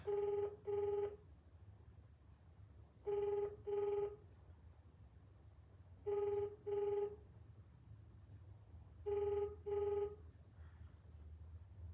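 A telephone rings unanswered in repeated double-burst rings, four pairs evenly spaced, clear against a quiet low hum with no talk.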